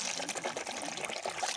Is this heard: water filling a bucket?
yes